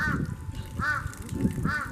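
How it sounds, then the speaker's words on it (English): A big black crow at Noboribetsu Bear Park in Japan gives three harsh caws, evenly spaced and fairly close, over outdoor background noise. "the big black crow just stole one"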